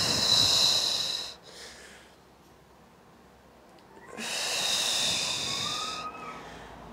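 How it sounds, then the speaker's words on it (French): Deep breathing during a Pilates exercise: two long, loud airy breaths close to the microphone, each lasting a couple of seconds and separated by a quiet pause, with no talking. "Encore une fois, souffle."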